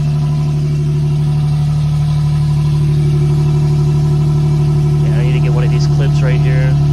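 A stock-exhaust Infiniti G37 idles close by with a deep, steady rumble that stays even throughout, and a brief voice comes in near the end.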